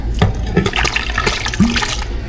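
Tap water runs steadily into a kitchen container to rinse it out, a close continuous splashing and gurgling with small sloshes.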